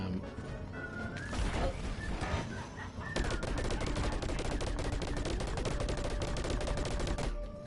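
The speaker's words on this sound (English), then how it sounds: "I'm shooting at nothing." Rapid weapon fire in the shooter game Plants vs. Zombies Garden Warfare 2, a dense sustained burst of repeated shots with crashes and game effects, loud and continuous, without talk.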